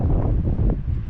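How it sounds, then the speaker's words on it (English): Gusty wind blows outdoors near a chicken coop, a loud, close buffeting rumble against the microphone that persists for the whole moment. "It's kind of windy out here."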